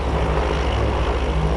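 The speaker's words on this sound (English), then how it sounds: "I hear that plane again." Propeller airplane in Farming Simulator 19 flying over a farm property, a steady droning engine hum with low rumbling tones held constant and fairly loud throughout, no talking.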